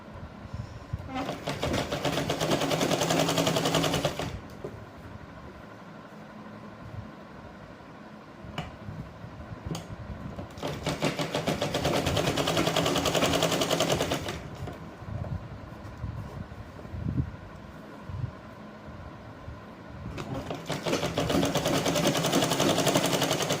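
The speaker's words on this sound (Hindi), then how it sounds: "ये मैंने मशीन का टांका लगा दिया, कोड पाइपिंग है ये" A sewing machine stitches cord piping onto a blouse neckline in three loud, steady whirring bursts of several seconds each, separated by quieter pauses with faint handling sounds.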